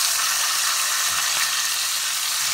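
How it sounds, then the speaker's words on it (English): Boneless pork chops fry in a hot pan, giving a steady, loud, bright sizzle that crackles evenly throughout with no talking. "Cook this on one side, y'all. Let it get brown, cook it over, flip it on the other side."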